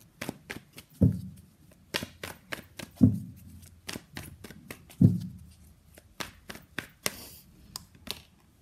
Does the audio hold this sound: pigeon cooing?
no